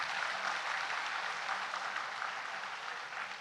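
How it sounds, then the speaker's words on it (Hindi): At a university convocation ceremony, the seated audience claps for their teachers: a broad, even patter of many hands, fairly faint and distant, sustained evenly throughout without speech. "उनके लिए जोरदार ताली बजाइए आप एक बार।"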